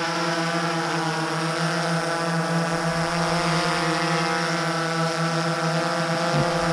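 A PowerVision PowerEgg drone on auto takeoff, its propellers giving a loud, steady, tonal whine that holds throughout at close range.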